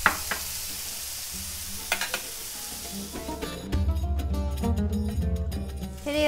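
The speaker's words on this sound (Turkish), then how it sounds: "Önce köftelerimizi pişirerek başlıyorum." Köfte meatballs fry in a pan with a crackling sizzle that grows louder and busier partway through, joined by light clatter, close up and without talk.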